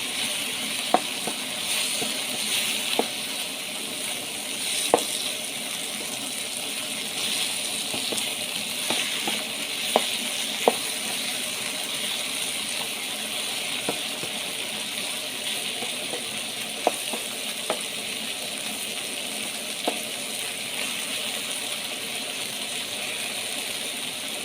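Beef liver being mixed with spices as it fries in a pan for a wet fry, a quiet steady sizzle with scattered light clicks and scrapes from stirring, close up with no talking.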